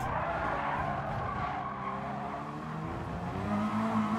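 Car tires skid and squeal through a long slide in Gran Turismo Sport, a steady screech over a droning race-car engine that swells louder near the end.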